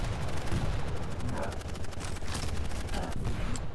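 In Quake, a glitch produces constant machine gun fire: dense, rapid, evenly spaced shots rattling nonstop for several seconds at steady loudness during a one-on-one match.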